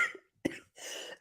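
A single short, sharp cough from one person, close to the microphone and fairly faint, sits between quiet stretches of soft breathy noise.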